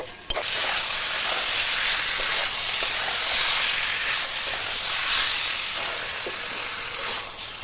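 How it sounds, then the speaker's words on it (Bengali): Salt-and-turmeric-coated chicken pieces drop into cooked spice masala and fry with a loud, steady sizzle and hiss, a thump at the start and light stirring clicks, no voices. "এবার এতে দিয়ে দেবো নুন হলুদ মাখানো চিকেনগুলোকে। তারপর চিকেনটাকে ভালো করে কষে নেব।"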